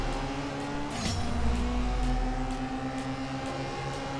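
A race car engine in CSR Racing 2 holds a steady, droning roar with a brief rise in the middle, loud and continuous with no talk over it.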